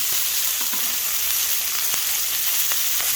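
Pork belly sizzles on a very hot grill, a dense, continuous frying crackle with scattered sharp pops, close and loud with no talk over it.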